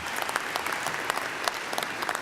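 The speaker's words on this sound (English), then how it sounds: "Let's give ourselves a round of applause." An audience at a U.S. Senate candidates forum applauds, a dense crackle of many hands clapping at a steady level for the full stretch, with no voice heard.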